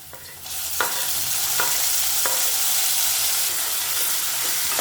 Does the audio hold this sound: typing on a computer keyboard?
no